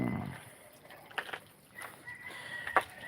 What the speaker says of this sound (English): I think chickens here are messing around.